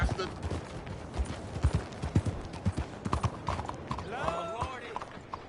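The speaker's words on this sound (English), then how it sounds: "Now that's a well-bred horse you got there." Horse hooves clip-clopping in Red Dead Redemption 2, an uneven run of close knocking steps with background sounds and a brief whinny-like cry near the end.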